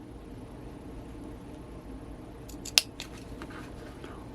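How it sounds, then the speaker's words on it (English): Over a low steady hiss, small sharp scissors cutting a line of stitching give a few quick crisp snips, one sharper than the rest, close and quiet. "go back in with a pair of sharp small scissors"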